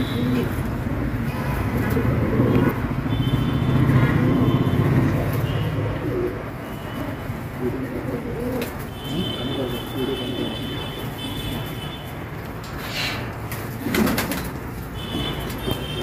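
Hyderabadi flying pigeons of an old breed coo in low, soft murmurs, most prominent early on, with faint bird chatter and distant traffic in the background.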